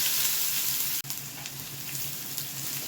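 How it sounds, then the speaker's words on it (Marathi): Cumin and chopped onion frying in hot oil left over from sautéing okra, a dense continuous close sizzle with a brief drop near the one-second mark, no voices. "कांदा इथं आपल्याला थोडासा असा गुलाबी कलर येईपर्यंत परतवायचा आहे"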